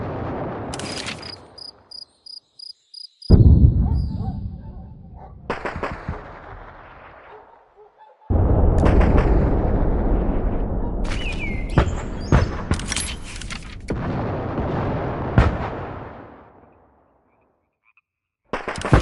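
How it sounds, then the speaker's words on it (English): Artillery strike explosions in Hell Let Loose Vietnam land as several heavy booms and cracks, separated by short gaps with faint chirping ambience between, loud and close, no talk. "Now let's use an artillery strike to blast the enemy point before our team advances."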